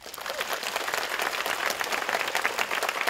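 Steady, dense applause from an audience after a music performance by an autistic child, continuous clapping without pause across the moment.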